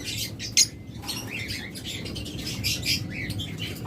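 Caged pet birds, budgerigars, cockatiels and lovebirds kept for sale at a local breeder's stall, chirp in short bright bursts over a steady low background hum, with one sharper call near the start.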